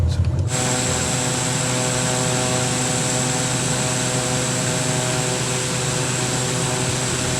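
Inside the cockpit of a Pilatus PC-12 single-turboprop aircraft in flight, a loud, steady engine and propeller drone hums continuously with a constant tonal whine, alone after a brief onset.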